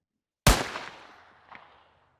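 A single sharp virtual pistol shot in the GAIM VR shooting simulator game cracks loudly and decays over about a second, with a fainter second report following shortly after.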